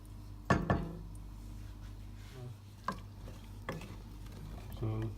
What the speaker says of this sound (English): So give a little stir now and then.